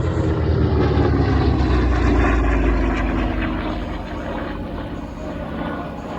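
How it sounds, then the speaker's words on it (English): A Goodyear G1 Corsair, a single-engine piston propeller warplane, passes at an airshow at Willow Run Airport with a loud, steady engine drone. The roar builds to a peak near the middle, then eases slightly as it recedes. "they turned it into the G1 Corsair. Here it is now."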